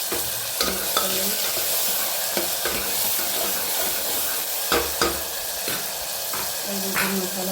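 Spices and vegetables being stirred in a frying pan, a steady sizzle under repeated spatula scrapes and taps against the pan, moderately loud and close.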